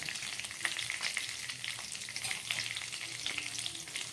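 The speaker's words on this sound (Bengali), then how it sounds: "এই তেলের মধ্যে আমি দিয়ে দিচ্ছি পাঁচ ফোড়ন আর দিয়ে দিচ্ছি কয়েক কোয়া রসুন থেতো করে রেখেছি সেটা" Panch phoron and crushed garlic cloves fry in hot oil, a steady close sizzle and crackle with occasional sharper pops and faint stirring, no voices.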